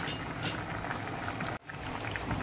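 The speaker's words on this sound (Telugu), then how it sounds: "కోడిగుడ్లు బాగా ఉడుకుతున్నాయండి" Beaten eggs cooked in spicy water give a dense, steady bubbling and seething from a pot nearby. A brief dip interrupts it before the boil carries on without talk.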